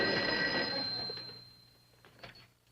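An old-fashioned telephone bell rings loudly once in a 1960s sitcom scene, with the ring fading into a faint room tone.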